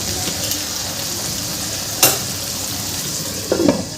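Salted potatoes stirred in a pan over a low background sizzle, with a sharp spatula knock midway and a brief scraping clatter near the end, close, no speech.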